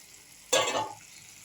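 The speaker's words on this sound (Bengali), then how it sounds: "আর একটু জল দেবো একটুখানি" Water poured into simmering egg curry gravy in a pan, a single short hissing splash and sizzle lasting about half a second, close and fairly loud, then settling back to quiet.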